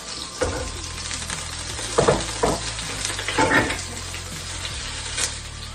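Scampi frying in melted butter in a pan, a steady close sizzle with a few louder bursts and stirring scrapes, no voices.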